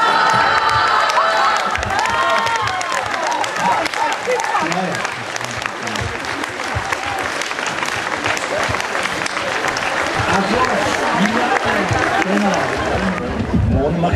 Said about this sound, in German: dass Sie mit einem tosenden Beifall unseren Gast verabschieden